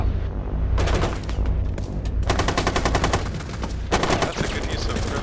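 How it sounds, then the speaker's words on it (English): Rapid automatic rifle fire in Rainbow Six Siege, a tactical shooter, rattles in loud, close bursts of fast clattering shots separated by brief pauses, with a quiet voice briefly audible underneath. "Shot him through the wall."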